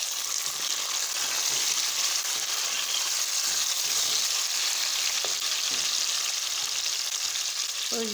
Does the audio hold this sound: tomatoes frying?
yes